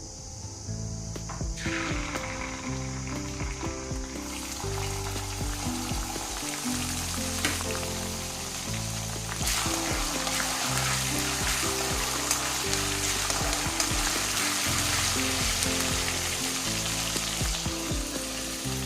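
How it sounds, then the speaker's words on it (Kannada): Kasuri methi, ginger garlic paste and green chillies sizzling in hot oil for methi paneer masala, a loud steady frying hiss with stirring scrapes throughout, a melody playing underneath. "ಕಸೂರಿ ಮೇಥಿ, ಶುಂಠಿ ಬೆಳ್ಳುಳ್ಳಿ ಪೇಸ್ಟ್ ಹಾಗೆ ಹಸಿಮೆಣಸಿನ್ಕಾಯಿ ಹಾಕ್ತಾ ಇದ್ದೀನಿ"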